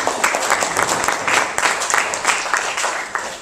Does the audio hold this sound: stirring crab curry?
no